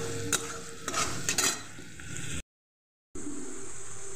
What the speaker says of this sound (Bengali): তো এখানে মশলাটা কষতে দিয়ে দিয়েছি